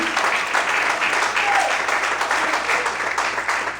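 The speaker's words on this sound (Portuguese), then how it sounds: "E aplaudir o Senhor nessa noite?" A church congregation applauds during an evening sermon, a loud, even wash of clapping that carries on for several seconds with faint voices underneath.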